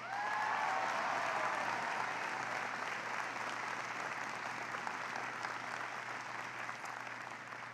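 An audience at a public event applauds steadily, a broad, even wash of many hands that starts strong and holds for several seconds, with a faint whistle near the start.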